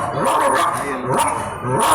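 A voice imitates a dog barking: several sharp, close, loud yelping barks in quick succession over about two seconds, with no other talk.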